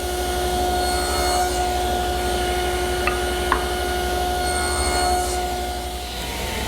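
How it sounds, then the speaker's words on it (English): Table saw making shoulder cuts on wooden table stretchers, a loud continuous whine with a steady hum throughout and brief clicks partway, nearby with no talking. "Here I'm elevating the height of the saw blade to 7/16 of an inch to make the remaining shoulder cuts on the stretchers."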